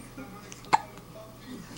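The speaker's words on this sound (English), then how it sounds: "Alright, Owen, let's show everybody your hiccups" A dog's hiccup gives a single sharp, close hic near the middle, with faint indoor background before and after.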